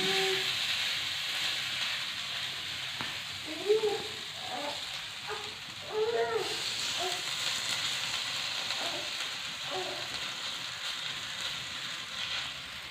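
Rice flour batter cooking in a hot pan gives a steady soft hiss and sizzle, with a few faint clicks and brief louder pops near the middle, heard close up.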